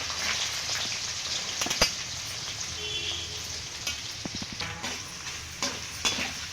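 Finely chopped onions sauté in a pan, giving a low, even crackling sizzle with intermittent scrapes and taps of a spoon stirring them, nearby and unaccompanied by talk.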